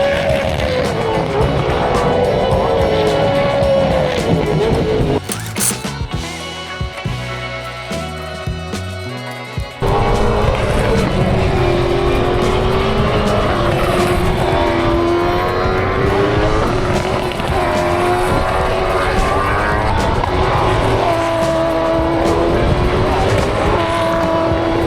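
Race cars corner around a racetrack, engines whining and rising and falling in pitch as they pass close by, loud and continuous, with a short muffled stretch midway and crowd or commentary noise underneath.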